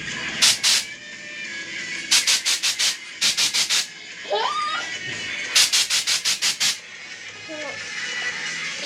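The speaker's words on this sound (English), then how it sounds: "I've blocked down the trunk." Block sanding the trunk of a JDM barn-find car: bursts of rapid rasping strokes, close and fairly loud, arrive in groups of five or six, separated by pauses with soft shuffling and a brief faint voice.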